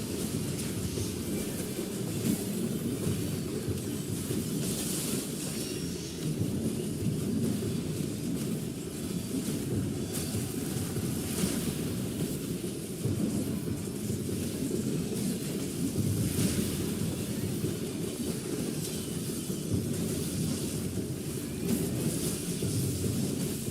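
A thunderstorm in the video game Call of Dragons: steady rain hiss runs under deep, rolling thunder rumbles that swell and fade throughout, loud and continuous with no voices.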